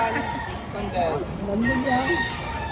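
Roosters crow and hens cluck at a poultry market in Lipa, Batangas, the calls rising over steady crowd noise while people talk nearby throughout.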